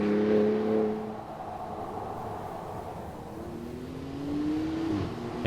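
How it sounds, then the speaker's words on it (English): Truck with OE valve and mid-pipe exhaust heard from outside pulling away, a steady engine drone with a rising tone toward the end, moderately loud and with no voices. "Exterior sound on takeoff."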